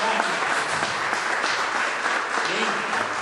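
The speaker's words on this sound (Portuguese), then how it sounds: "Pode aplaudir esse Deus." A church congregation applauds during a worship service, a continuous, even spread of clapping filling the room, with voices likely mixed underneath.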